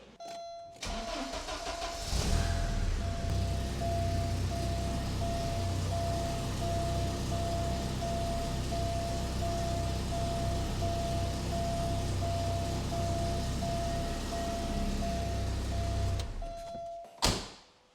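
A Porsche 944 engine idles steadily and close by while the steering wheel is turned, with a constant whining tone riding over the low engine drone, then the engine cuts off near the end with a short clunk.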